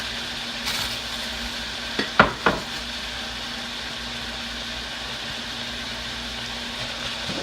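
Red and yellow peppers are stirred into ground hamburger frying in a pan, with a steady sizzle throughout and a few sharp scraping stirs near the middle.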